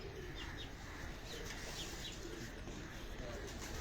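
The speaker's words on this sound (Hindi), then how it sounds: "ये है जी वो कबूतर, देखें आप, जो इनकी छतों पर राज कर रहे हैं और उड़ रहे हैं" Pigeons on a city rooftop in Lahore, with faint chirps and soft cooing scattered over a steady, noisy outdoor background.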